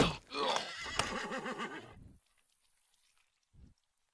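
A horse in the video game Mortal Online 2 neighs loudly with a shaky, wavering whinny, followed by silence and a brief faint sound near the end.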